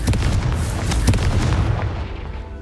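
The Confringo fire spell bursts in Hogwarts Legacy with a couple of sharp booming blasts, followed by a rumbling, crackling tail that gradually fades.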